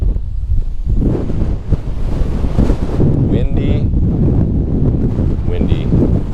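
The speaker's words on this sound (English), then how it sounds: "Windy." Strong wind buffets a fishing boat out on the open water of a bay, a continuous roaring rush that batters the microphone throughout, with a voice speaking briefly underneath.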